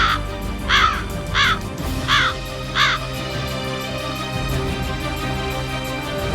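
A New Caledonian crow in forest caws in a series of five sharp, fairly close calls spaced about a second apart, then falls quiet over a steady background.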